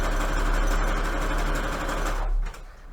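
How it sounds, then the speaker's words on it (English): A sewing machine stitches down the middle of overlapping pink Christmas fabric strips on a foundation fabric, a loud, steady, fast mechanical whir close by that stops abruptly near the end. "I'm just going to continue to place the fabrics and sew down the middle."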